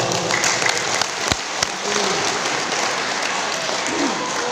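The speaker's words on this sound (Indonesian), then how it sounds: "Tepuk tangan untuk" Audience applause at an Islamic lecture by the head of a regional Ulema council, a continuous broadband patter of many hands that holds steady across the whole stretch, with a couple of sharp louder claps standing out.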